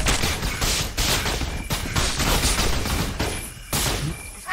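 Gunfire in a paranormal assault team video game, a loud continuous fusillade of rapid shots in overlapping bursts, close and dense throughout with brief lulls.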